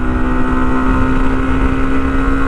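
Hero Xtreme 125R motorcycle at speed on an expressway, a steady loud engine drone with a fixed whining tone and rushing wind, holding constant throughout with no pauses.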